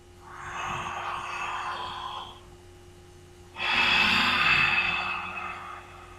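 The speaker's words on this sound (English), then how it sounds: "Breathing out an H sound. So you're kind of sounding like Darth Vader." Two long, breathy ujjayi exhales through a constricted throat with an H sound, close and hushed, with a quiet pause between them and a faint steady tone underneath.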